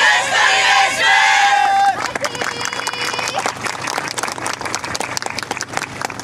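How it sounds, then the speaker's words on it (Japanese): An audience at the 2019 Odorina yosakoi dance festival bursts into loud cheering and shouts, then settles into sustained, dense clapping with crowd babble underneath. "一生懸命演舞しますので、ご声援よろしくお願いします"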